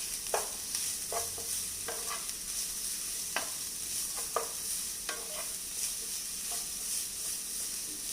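Cabbage shreds frying in a pan for veg chapati noodles crackle with a steady close sizzle, with repeated sharp scrapes and taps of a spatula stirring at an uneven rhythm.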